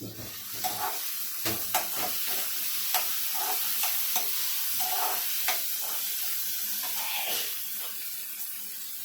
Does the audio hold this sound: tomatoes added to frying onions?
yes